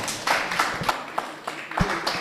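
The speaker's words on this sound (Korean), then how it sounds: "후보자님들께서는 사인해 주셨으면 큰 박수를 부탁드리겠습니다." Scattered claps from a small audience at a 2022 local-election clean-campaign pledge signing ceremony for Suncheon mayoral candidates, a few hands striking in loose, uneven rhythm at moderate distance, with no talk over them.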